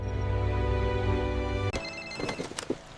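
A mobile phone ringtone plays for an incoming call, a steady electronic melody that is fairly quiet, then cuts off abruptly and leaves a few scattered clicks and handling noises.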